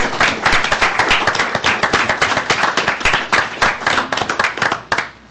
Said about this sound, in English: let's give one more round of applause for our amazing teacher